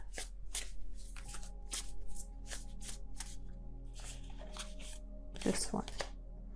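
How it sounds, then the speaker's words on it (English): Tarot cards riffle and snap in repeated bursts, close and crisp, with a low steady hum underneath and a louder flurry near the end. "I don't know what's going on with my shuffling right now."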